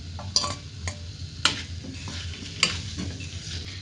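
Onion-tomato paste frying in a pan with fried potatoes for aloo kurma, a soft steady sizzle broken by a few sharp scrapes of a spoon against the metal, close and fairly quiet.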